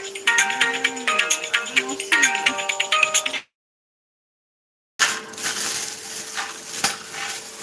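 A bright electronic ringtone chimes repeatedly in a steady melodic pattern, stops abruptly, then silence gives way to background clatter and noise.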